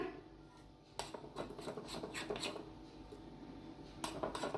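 A spoon scraping and clinking against a bowl while carrot cake batter is stirred with a spoonful of ghee, in irregular close strokes with sharper taps at intervals and no talk.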